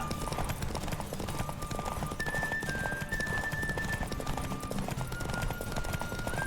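Hooves clip-clop steadily as a horse gallops at speed in The Witcher 3, a brisk continuous rhythm with a faint whinny and light game ambience throughout.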